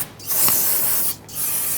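A broad hissing spray from an aerosol can cleaning brake fluid residue, two bursts with a short pause between, close and fairly loud.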